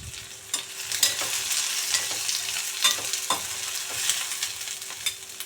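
Green chillies and garlic cloves frying in hot oil for homemade palak paneer, a steady close sizzle broken by several sharp spatter pops and scraping stirs, with no voices.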